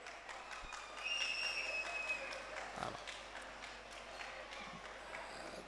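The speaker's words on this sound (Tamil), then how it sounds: "சூப்பராக இருந்துச்சுன்னா சூப்பராக கைத்தட்டுங்க" An audience claps after children's Bharatanatyam dance performances at a Salangai Ani Vizha ceremony, a fairly faint, steady patter of many hands in a large hall, with a brief electronic tone sounding partway through.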